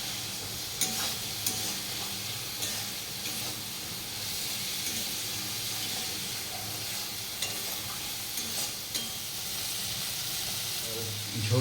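Spice paste with green chillies being sautéed and stirred into ridge gourd and prawns for a Bengali prawn curry, a steady close sizzle and hiss with occasional scraping strokes of a utensil, continuing evenly throughout.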